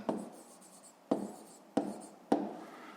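A pen scratches out a fifth-grade math solution in four short, distinct strokes spaced about a second apart, each a crisp scrape that fades quickly, close and quiet.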